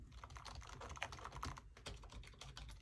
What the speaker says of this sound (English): The keys are a little quieter.